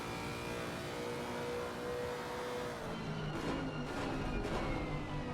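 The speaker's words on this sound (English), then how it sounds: "Let's listen to that V8, baby. Yeah, just because I want to listen to the Lexus." A Lexus V8 race car in a sim racing game holds a steady, faint mid-pitched engine drone, then a few quick throttle blips and revving bursts as it downshifts toward the end.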